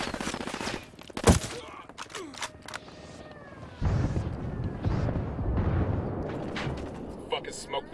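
Gunfire and explosions in the video game Ghost Recon Wildlands as rebels provide mortar support. One sharp, loud blast is followed by sporadic shots, then a dense, rumbling barrage of fire and detonations continues to the end.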